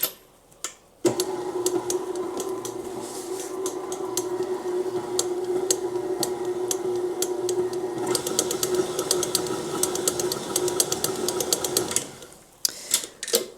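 A hand mixer whirs steadily through pound cake batter, a continuous motorized hum with rapid ticking clatter of beaters against the bowl, starting abruptly and cutting off near the end.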